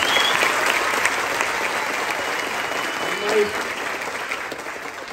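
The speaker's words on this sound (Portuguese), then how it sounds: "Pode aplaudir" An audience at a circus clown show claps steadily throughout, a dense continuous patter of applause with a brief voice cutting in partway.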